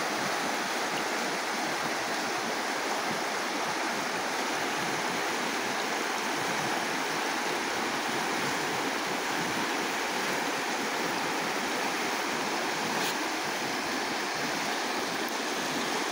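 Water of the Lewis River rushing steadily downhill, a dense, continuous roar at close range that stays even for the whole stretch with no voices.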